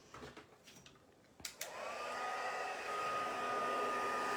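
A heat tool blows on tacky adhesive prepared for gilded leafing, starting with a couple of clicks and then a steady, close airy whir like a hair dryer that holds to the end, with no talk.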